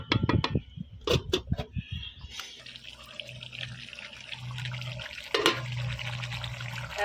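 Water pours into a pot of browning meat curry with a steady splashing rush, preceded by a few clanks of utensils against metal, close-up with a low background hum.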